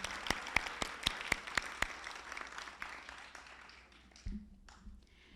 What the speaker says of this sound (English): Let's give a final round of applause to all of our graduate class.